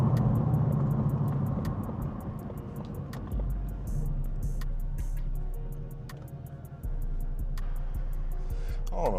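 A car cruising at night on an Atlanta interstate near the I-75 South ramp, with a steady low engine and road rumble throughout, a navigation voice-like chime and faint interior ticks over it.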